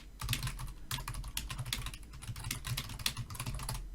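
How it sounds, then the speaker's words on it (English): Fingers type on a computer keyboard in quick, close bursts of clicking keystrokes with brief pauses between runs, heard alone and fairly quiet. "If I can type correctly."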